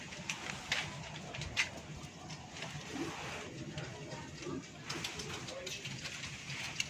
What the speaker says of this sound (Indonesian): Ini teman-teman merpatinya.